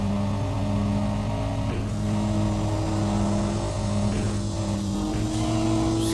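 An engine in the racing video game Kaido Racer drones steadily during a race launch, a constant harmonic hum with a brief pitch shift partway through, alongside a soft tire or road rush.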